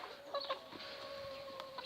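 A rooster on a small poultry farm gives soft, scattered clucks, faint and close, over a quiet background hum.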